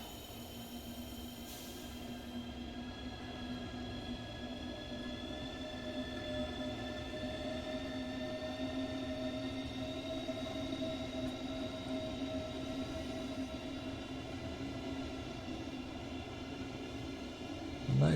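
High Speed Train (HST) in Train Sim World 3, wearing a Union Jack livery, with a steady diesel drone and layered engine tones holding even and fairly close throughout, no voices over it.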